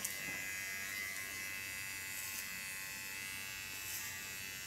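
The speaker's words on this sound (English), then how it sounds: "This is the smallest clipper of Kiona." A very small, ultra-sharp Kiona hair clipper buzzes steadily at close range with a thin, high-pitched electric whine while cutting hair for a bob.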